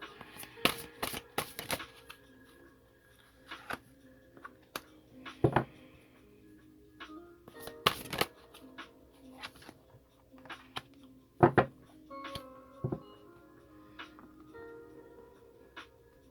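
Large tarot cards are shuffled by hand in a series of sharp riffles and soft slides, close and fairly quiet, with brief pauses between bursts.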